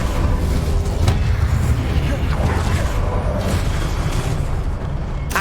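The Incendio fire spell in Hogwarts Legacy bursts in a loud, dense rumbling blast that keeps roaring throughout, with a spoken voice heard over it.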